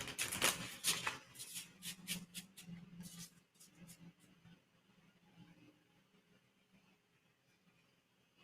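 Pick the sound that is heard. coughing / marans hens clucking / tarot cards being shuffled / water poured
tarot cards being shuffled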